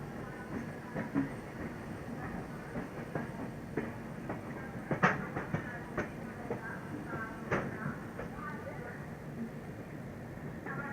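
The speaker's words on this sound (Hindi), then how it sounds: "कोई पैसेंजर ट्रेन की डिपार्चर हो रहा है" A passenger train departs a station on the Gorakhpur–Sitapur–Chhapra route with a steady low rumble and clatter, heard from aboard another train, with sporadic clanks and a voice talking over it.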